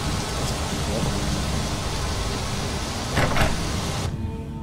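Steady heavy rain hisses down over Rorikstead in Skyrim, a dense unbroken wash of noise with a brief louder swell near the end before it cuts off sharply.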